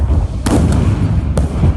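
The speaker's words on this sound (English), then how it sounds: "Ukrainian ground forces, they pretty much only have ground forces, engaging Russians with rocket-propelled grenades" Rocket-propelled grenade fire in a Ukrainian city street battle: a couple of sharp, distant cracks and thumps over a low, constant rumble of combat noise.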